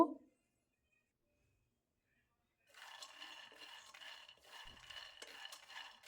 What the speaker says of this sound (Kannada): ಲೋ ಫ್ಲೇಮಲ್ಲೇ ಚೆನ್ನಾಗಿ ಕಡಲೆ ಬೀಜನ ಫ್ರೈ ಮಾಡಿಕೊಳ್ಬೇಕು